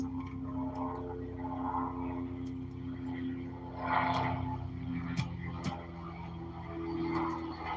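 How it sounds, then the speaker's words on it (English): A steady low engine drone of a helicopter passing overhead, fairly loud and continuous, swelling slightly toward the end with a few sharp clicks. "Sorry about the helicopter, everybody."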